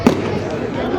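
Fireworks pop twice, sharp and fairly loud, near a bonfire at a São João festival in São João do Itaperiú, Santa Catarina, with a background murmur of an outdoor crowd.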